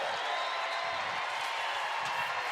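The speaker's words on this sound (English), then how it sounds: "the crowd cheering all the finishers here in the stadium" A stadium crowd at a 10K road race finish cheers and claps for the runners as a steady, broad wash of noise, fairly distant and even throughout.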